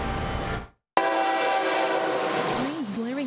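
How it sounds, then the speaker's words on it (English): A train horn blares loudly and continuously through a downtown intersection with strong harmonic tones, briefly cut off once near the start, then sounding again steadily. "Trains blaring their horns through intersections."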